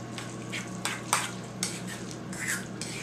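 Spoon stirring sour cream and mayonnaise together for a lobster and shrimp seafood salad, soft close scraping and squelching strokes in an uneven rhythm over a faint steady background hum.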